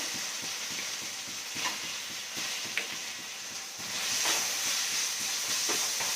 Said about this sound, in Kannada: ನೀಟಾಗಿ ಫ್ರೈ ಮಾಡ್ಕೊಳ್ಳೋಣ ಅದ್ರದ್ದು ಹಸಿ ವಾಸನೆ ಹೋಗೋ ತನಕ